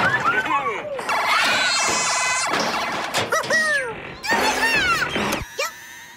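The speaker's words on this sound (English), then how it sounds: "We need to turn off those alarms and radios." Cartoon alarms blare on an island, with warbling siren-like tones and electronic beeps sweeping up and down in overlapping bursts, loud and close, broken by short gaps and a sharp hit.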